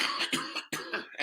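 A person coughs several times in quick succession, close and loud harsh bursts separated by brief pauses.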